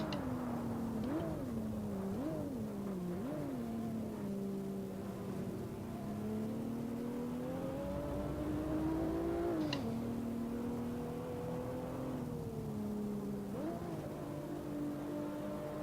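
A virtual BMW 1M tuned to Stage 3 in the Assetto Corsa racing game, lapping Barcelona, revs and blips through a series of quick downshifts, its engine note rising and falling in short bursts, steady and loud throughout.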